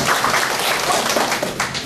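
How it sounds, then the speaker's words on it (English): A classroom of students claps for a classmate during an English lesson: steady, close, fairly loud group clapping throughout with no distinct voices. "give her a big clap."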